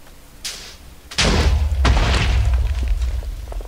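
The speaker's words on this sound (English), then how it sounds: "I'm gonna watch this thing explode." A single loud explosion bursts up after a short pop, followed by a heavy rumbling boom that rolls on and slowly fades.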